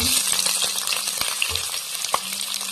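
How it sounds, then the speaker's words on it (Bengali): Onion hits hot oil with garlic already frying in the pan for a cauliflower curry, giving a loud, dense sizzle with a few sharp stirring knocks, close up and without talk. "এখন আমি পেঁয়াজ দিলাম"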